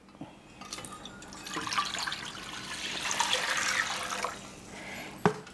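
Water pours into a cooking pot in a kitchen, a rising splashing and gurgling stream that fills steadily for several seconds before stopping with a final clunk.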